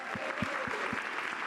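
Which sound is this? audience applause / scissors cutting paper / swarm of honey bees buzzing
audience applause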